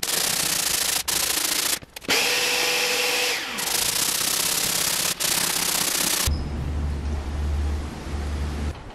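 Sanding down high spots on a wooden guitar fingerboard by hand, loud and up close, with steady rasping strokes broken by short pauses and knocks; later a machine hum, likely the spindle sander, runs beneath it.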